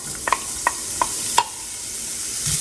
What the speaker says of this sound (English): From here, we're going to add in our carrots